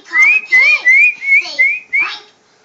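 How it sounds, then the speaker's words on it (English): A child whistles repeatedly to call birds, six short rising tonal whistles in quick succession, close and fairly loud, each note sliding upward, with no talking over them. "Can you whistle for the birdie?"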